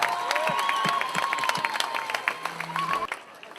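Crowd applause and scattered cheering at the Grand Raid race event, a dense steady clapping wash with a few voices calling out over it.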